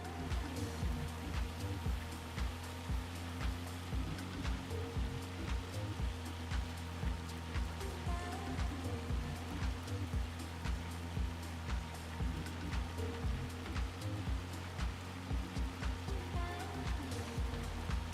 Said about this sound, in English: This is hail. This isn't ideal.